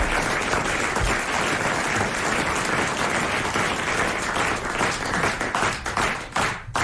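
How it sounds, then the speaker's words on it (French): A studio audience applauds in a dense, steady wash of clapping that runs loud for several seconds before tapering off at the end. "Regardez-le, applaudissez-le."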